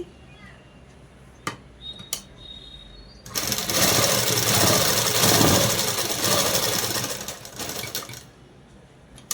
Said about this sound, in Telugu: దీన్ని ఇలా తిప్పేసి పై కుట్టు వేసేసుకోవాలండి